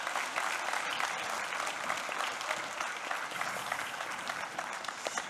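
An audience at a cybersecurity conference breaks into applause, a dense, even patter of many hands that stays fairly steady and fills the room for several seconds.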